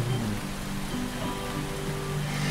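Steady rain pours and patters on surfaces outside, a continuous dense hiss with no voices or other events.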